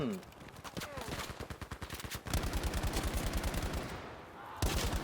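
Rapid automatic gunfire in the Battlefield V video game, with dense bursts of close shots that run almost nonstop, pausing briefly before resuming; a voice is briefly audible at the start.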